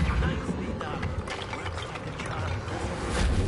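A repair spell mending a broken object in a Hogwarts video game, heard as a continuous whirring, ratcheting mechanical clatter of parts reassembling, moderately loud, with faint talk alongside.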